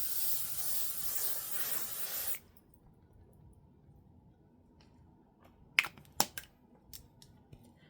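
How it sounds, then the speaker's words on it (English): Hairspray from an aerosol can is sprayed onto a face in one long, close, steady hiss lasting a couple of seconds, then stops, leaving quiet room tone and a few small clicks. "let's spray this hairspray on our face"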